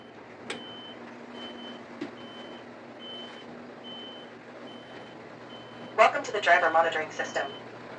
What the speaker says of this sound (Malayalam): ഈ ഒരു സിസ്റ്റം അലാറം പുറപ്പെടുക്കുന്നതാണ്